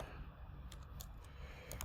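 Light keystrokes on a computer keyboard, a few soft quick clicks over a faint background hum, no talk.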